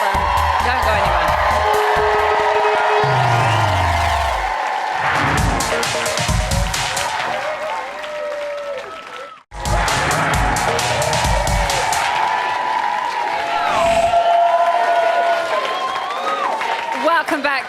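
A large live studio audience at a Big Brother UK eviction night cheers and whoops loudly with scattered clapping, a dense roaring crowd that briefly drops out midway before surging again, with voices heard through it.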